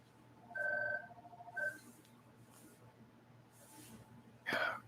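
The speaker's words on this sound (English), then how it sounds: "This dang phone will not quit ringing." Short electronic telephone ring tones sound in a couple of brief bursts, fairly faint and close, separated by quiet gaps, with a louder sharp burst near the end.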